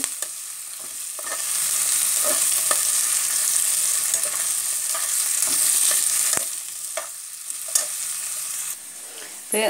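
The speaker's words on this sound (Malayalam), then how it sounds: "പുട്ട ഉപ്പ് ആദ്യം ഇട്ട് കഴിഞ്ഞാൽ ഉള്ളിയൊക്കെ പെട്ടെന്ന് ഒന്ന് വഴന്ന് വരും" Onions sautéing in a pan with salt added first, for a leftover puttu upma; a steady close sizzle with occasional stirring scrapes and clinks, no talk.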